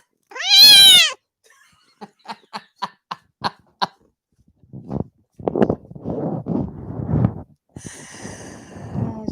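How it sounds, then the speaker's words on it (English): A cat lets out one loud, drawn-out meow, then a quick series of short clicking snorts. After that come rougher breathy vocal sounds and a faint high tone at the end. "this cat is louder than the average kid between, I don't know, 2 and 7 years old"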